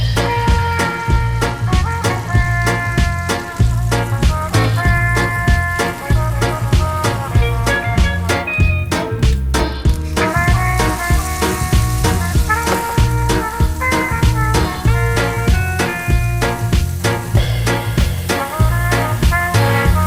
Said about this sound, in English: Once the butter foam has almost subsided, add the veal as much as I can without crowding the pan.